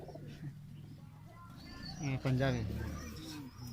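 A female band-tailed pigeon on a rooftop loft gives one loud, close coo midway, while someone talks before and after it.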